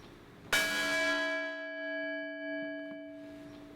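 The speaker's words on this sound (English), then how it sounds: "We toll the bell in memory of all who lost their lives on Lake Erie" A single church bell tolls in memory of Lake Erie shipwreck victims, one loud clear strike followed by a long ringing, slowly fading hum.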